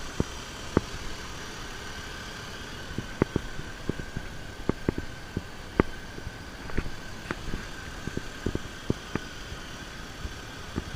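A 2002 BMW X5 engine idles with a steady, even hum. Faint irregular ticks and clicks scatter across it, and no one speaks.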